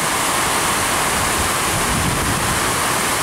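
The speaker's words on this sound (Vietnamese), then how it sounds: "đang trút mưa xuống một cách rất là mạnh mẽ" Heavy rain pouring down in a dense, continuous roar of hiss, steady and loud throughout with no breaks.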